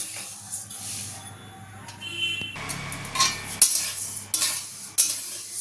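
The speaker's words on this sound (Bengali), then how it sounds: "তো ড্রাই রোস্ট আমি করে নিই চালটা" Raw rice being dry roasted in a pan for muri ghonto, stirred with a utensil, giving soft scraping and rustling with a few sharp clinks of metal against the pan, close and moderately loud, with no speech.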